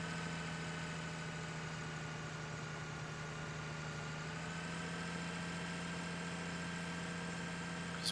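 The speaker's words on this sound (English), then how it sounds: "on the harvesters right now, when you're going downhill, your sound doesn't cut out" Steady in-cab idle of a combine harvester engine in a farming simulator game, a constant low hum with a faint higher whine, unbroken and moderately loud for the whole stretch with no talk.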